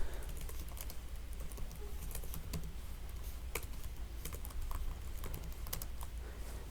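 Rapid, uneven typing on a computer keyboard, close and fairly quiet, with clusters of sharp key clicks over a steady low background hum and no talking.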